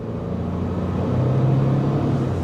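A 2025 Ford Expedition Active SUV accelerates on throttle into a corner, giving a steady, close engine rumble with a low drone that strengthens partway through.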